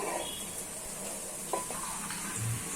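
Hot tempering poured into simmering cabbage sambar sets off a steady sizzle and bubbling, with a couple of sharp utensil knocks on the pot partway through, close up and with no voices.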